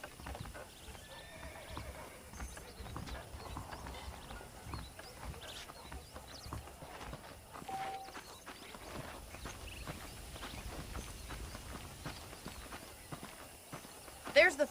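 Horse hooves clip-clop steadily at a walking pace with an occasional whinny in the video game Red Dead Redemption, beneath a person speaking.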